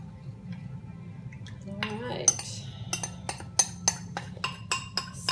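Utensil stirring shrimp marinade in a bowl, a series of sharp clinks and scrapes growing more regular toward the end, close and moderately loud, with no talking.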